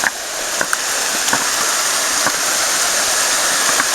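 A mountain stream at Lena Lake in the Olympic Mountains rushes loudly and steadily nearby, a dense continuous roar of flowing water with occasional small splashes.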